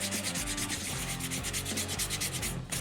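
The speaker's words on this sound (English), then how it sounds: "I've now just got some slightly smoother sandpaper. I'm just going over and taking down the rough texture a little bit." Smoother sandpaper rubs steadily over a handmade cosplay ninja turtle shell, a continuous scratchy sanding sound in quick repeated strokes, close and fairly loud with no talking.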